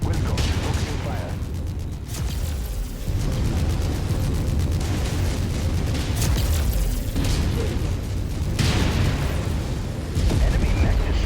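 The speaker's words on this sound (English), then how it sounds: "Enemy mech destroyed." A destroyed enemy mech explodes in MechWarrior 5, a sustained rumbling blast layered with continuous heavy weapons fire and booms, loud and dense throughout, with radio-style voices talking over the battle.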